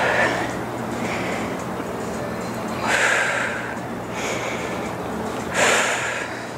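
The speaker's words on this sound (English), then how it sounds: "hopefully you can hear us breathing" Heavy, rhythmic breathing during a stability ball workout, with loud forceful exhales roughly every few seconds close to the listener.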